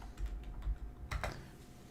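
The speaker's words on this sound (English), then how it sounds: "I'll just go into the search bar and I'll type in the Signposts." Someone types on a computer keyboard, a short burst of soft, close key clicks at an irregular pace, fairly quiet.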